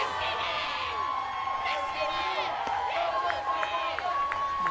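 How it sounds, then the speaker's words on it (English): Crowd at an NCAA college softball game, Stetson versus Central Arkansas, cheering and whooping right after a called-strike pitch, a steady roar of many voices with brief sharp shouts throughout. "Crowd hyped up on that one"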